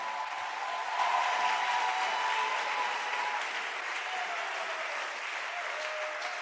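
A church congregation applauds steadily throughout, a sustained wash of clapping at moderate level with a faint tonal voice or music line above it.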